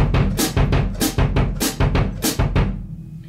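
A drum kit plays a bossa or samba ostinato on bass drum and hi-hat. Crisp, evenly spaced strikes fill about three seconds before a short decay, close and loud with no talk.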